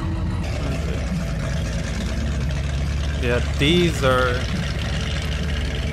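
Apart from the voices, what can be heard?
classic car engines idling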